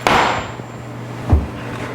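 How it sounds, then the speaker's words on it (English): A kitchen knife blade tapped into a raw squash while preparing a Thanksgiving side dish, giving a sharp tap at the start and a duller thud about a second later, close and fairly loud. "I've got a blade of a knife and I'm just tapping it into the squash."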